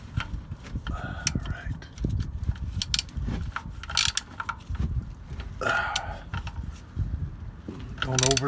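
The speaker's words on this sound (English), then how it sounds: "then I'll get my socket and torque it down a bit" A socket wrench ratchets in quick clicking bursts as it torques down the drain plug on a 1999–2005 Yukon Denali XL 6.0, close up with background noise between the strokes.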